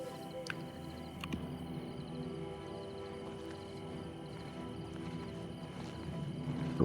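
Horses in the video game Oblivion Remastered: steady clip-clop of hooves with an occasional whinny, moderately loud over a continuous game ambience, no talk.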